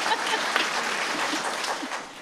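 An audience applauds at a talk on religion, ethics and news media, a dense, steady patter of many hands clapping together for a couple of seconds.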